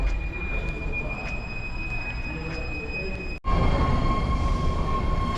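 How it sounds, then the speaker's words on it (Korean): A BART train rumbles steadily with a high electrical whine, then the sound shifts abruptly as it draws into a San Francisco station, noisy and close, no talking. "자, 마트 열차가 오고 있습니다."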